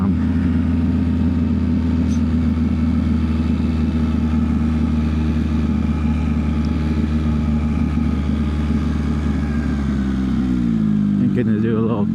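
Yamaha XSR900 motorcycle engine, a 2023 model, droning steadily at speed with a continuous rumbling tone, then pitch sweeping up and down near the end as it shifts gears mid-throttle.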